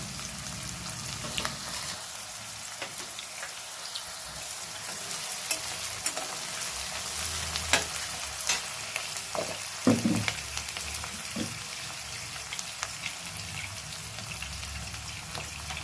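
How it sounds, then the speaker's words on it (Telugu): Chopped onions and green chillies fry in a pan for a village-style country chicken curry, giving a steady close sizzle with scattered crackles and stirring scrapes, and no voices. "ఇప్పుడు ఉల్లిపాయ ముక్కలు వేస్తున్నాను పచ్చిమిర్చి వేస్తున్నాను"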